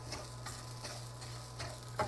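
Chickpeas with lemon zest and diced parsley are fried and stirred in a pan, giving a faint, steady sizzle with soft scraping strokes that recur every half second or so. A low hum runs underneath and no one speaks.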